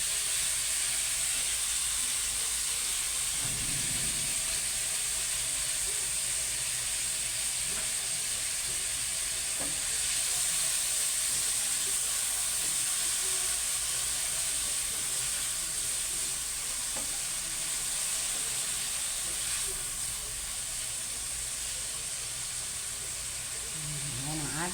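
Fresh tomatoes sizzle and fry steadily in a pan over heat while a home cook makes lunch, giving a continuous hiss with occasional stirring scrapes that carries on alone for the whole stretch.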